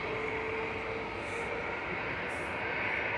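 Logan Air ATR 42 turboprop arriving from Inverness at Manchester Airport, a steady broadband engine roar with a sustained whine, moderately distant and unbroken through the short stretch.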